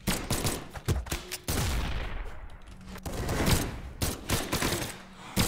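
Gunfire from guns in the Brawlhalla fighting game comes as loud, sharp repeated shots in quick clusters, with one long, sweeping whoosh between bursts and no talking.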